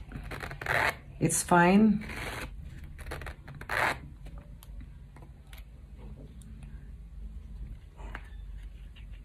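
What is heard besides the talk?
wallet zipper being opened and closed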